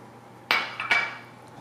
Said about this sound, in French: Je mélange un petit peu.